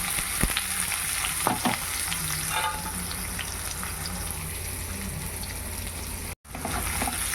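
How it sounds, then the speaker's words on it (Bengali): Chopped onions fry in hot oil with cardamom, cinnamon and bay leaf, giving a steady close sizzle broken by a few clanks and scrapes of stirring early on, with a brief dropout near the end. "পেঁয়াজ ভেজে নেব"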